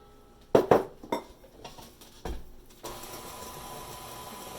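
Banana bread batter with flour and salt being stirred quickly in a bowl, a few sharp clinks of utensil against the bowl followed by softer scraping and a steady background hiss.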